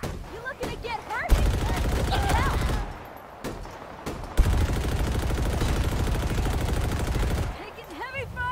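Heavy automatic gunfire from the Halo Infinite campaign, with dense sustained bursts and loud close volleys broken by brief gaps, while voices call out over the shooting.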